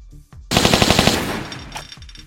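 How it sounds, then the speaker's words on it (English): Rapid automatic gunfire from a weapon in a Tomb Raider video game: a loud, fast burst of about a dozen shots that tails off into a fading echo. "It's an incredibly effective weapon, but it enforces the same limitations to Lara's mobility as the M16 did"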